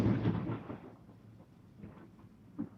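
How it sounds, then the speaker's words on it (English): Real thunder rumbles during a storm, a heavy low roll that fades over a couple of seconds, with a faint later crack, distant and with no talking. "The thunder you're hearing is not sound effects, it is real thunder."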